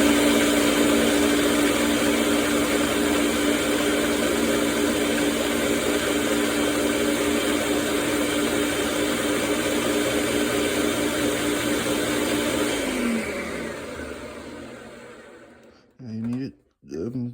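Blender grinding chickpeas for silken chickpea tofu: a loud, steady whirring roar that holds for about thirteen seconds, then winds down and stops, followed by brief faint sounds.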